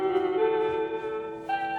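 An EQ'd guitar sample from a Chase Bliss Blooper looper pedal, processed with Soothe, plays as a sustained, smooth harmonic tone with a brief swell near the end, steady and alone.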